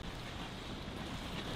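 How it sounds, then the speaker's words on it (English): Steady wind buffeting the microphone on the bank of the Burnett River, a constant broadband rush with no gusts breaking the roar, close and fairly loud throughout. "And it's very windy"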